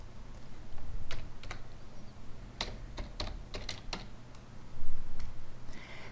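Computer keys tapped close by in short bursts, a quick run of crisp clicks clustered in the middle and a few scattered presses around it, over a low steady hum.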